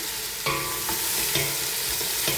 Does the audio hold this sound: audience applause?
no